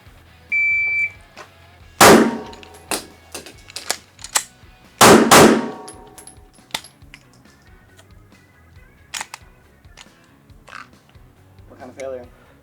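Rost Martin RM1C pistol fired at a target on a range: loud, sharp shots in separate bursts, two big cracks near 2 and 5 seconds and smaller reports spaced between, with faint talk.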